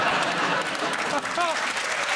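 A TV comedy panel show studio audience breaks into a dense, sustained round of applause at close range, with a voice briefly cutting through the clapping.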